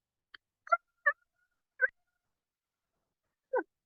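A human voice imitates a rooster crowing for a kindergarten class, in a few short, clipped vocal bursts spaced over several seconds, close and fairly quiet with silence between them.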